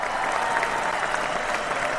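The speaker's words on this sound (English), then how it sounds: "we always give them an astounding round of applause" Studio audience applause on an ESPN hockey talk show, a steady dense wash of clapping that holds at an even level for the whole stretch with no voices over it.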